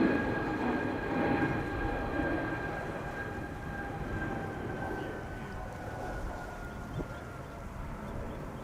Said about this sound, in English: So that's 2 consecutive go-arounds.